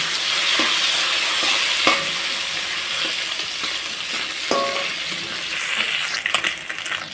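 Chona fish frying red in a pan, a continuous loud sizzle and crackle of hot oil, with occasional clinks and stirring scrapes of a utensil against the pan near the end.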